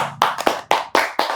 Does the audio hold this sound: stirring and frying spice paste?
no